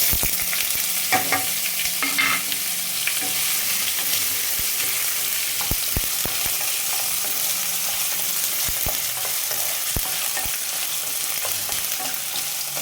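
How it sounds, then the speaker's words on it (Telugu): Paneer fries in hot oil for a palak paneer curry, giving a steady, close sizzle throughout, broken by sharp clicks and scrapes of stirring against the pan. "ఆయిల్ వీటెక్కిందండి ఇప్పుడు పన్నీర్ వేసుకున్నానండి"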